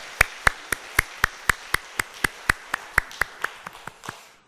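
A church congregation claps together after a choir's praise song, a steady, evenly spaced rhythm of sharp claps, about four per second, held for several seconds before thinning out and stopping.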